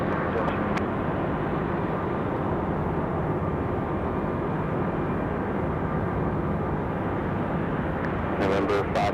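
Fixed-wing airliner taking off from runway 23 left at Raleigh-Durham International, a steady broadband engine roar holding even and loud throughout, with a few faint clicks near the end.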